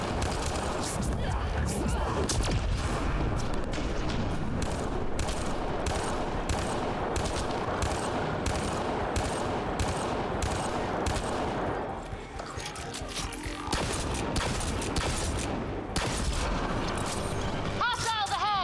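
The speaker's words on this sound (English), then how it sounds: "See how you can shoot through the wall?" Rapid bursts of video game gunfire crackle almost continuously as shots punch through a wall, with dense overlapping reports, a brief lull near the end, and a voice talking under the shooting.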